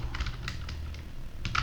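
Fingers tap a computer keyboard while typing in MS Word, giving a quick run of light, close clicks at an uneven rhythm, then a brief pause and a final pair of keystrokes.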